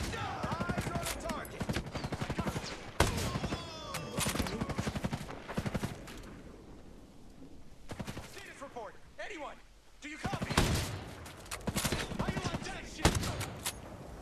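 Rifle fire in Ghost Recon Breakpoint: rapid bursts of sharp, loud shots in clusters with brief gaps, mixed with game effects and a voice talking between the volleys.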